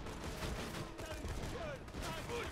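Faint, rapid bursts of gunfire from the Borderlands 2 game sit under other game sounds, repeating as a fast rattling volley.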